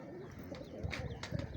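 Soft, low pigeon coos sound close by in hot sun, a few short murmuring calls over faint background noise.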